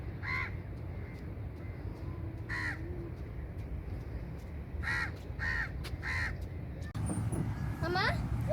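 A crow caws repeatedly at a seaside spot in the morning, with several sharp, harsh calls in irregular bursts standing out clearly over low background noise, and a voice breaking in near the end.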